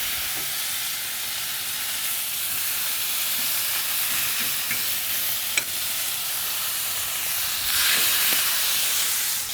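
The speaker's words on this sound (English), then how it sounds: "Start with a little of that butter that you made. Get some steaks on there." Steaks searing in butter on a hibachi-style griddle for a home Benihana dinner give a loud, steady sizzle and hiss throughout, with one brief sharp click partway through and a slight swell near the end.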